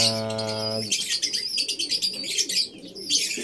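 A thin, underweight racing pigeon gives a short low humming coo close by, followed by a run of quick high chirps.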